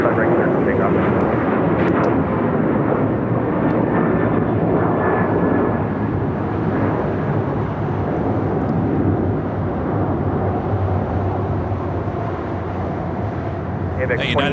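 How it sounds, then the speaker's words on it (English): A United Airlines 757 takes off from runway 25 right at LAX, its jet engines making a loud, steady roar that holds for the whole stretch, with an airport radio voice talking over it. "runway 25 right, clear for takeoff."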